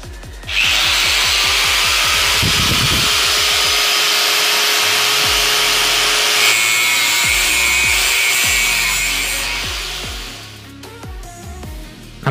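Metal is drilled and cut for a DIY Bluetooth speaker clamp: a loud, continuous high power-tool whine runs for several seconds over rapid rhythmic scraping strokes, then winds down into scattered clanks and taps.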